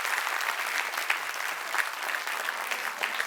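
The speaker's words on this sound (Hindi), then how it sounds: "सारे ब्रांच वाले एक साथ तालियां बजाइए प्लीज" Parents and guests from all branches clapping together at a preschool annual day event, a dense, steady round of applause at moderate loudness with no talk over it.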